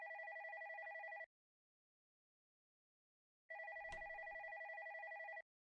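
A telephone downstairs rings late at night: two electronic ring bursts, each over a second long, separated by a few seconds of silence, clear and alone.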